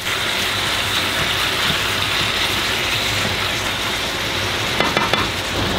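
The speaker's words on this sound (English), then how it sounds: "when the oil is warm, I have to add the beef. Let it cook for 3 minutes-ish." Beef sizzles loudly in warm oil in a pan, a dense, steady close-up frying hiss throughout, with a few quick clicks near the end.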